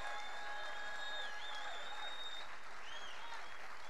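A rally crowd claps and applauds steadily and loudly, a dense continuous wash of clapping with scattered cheers, no speech over it.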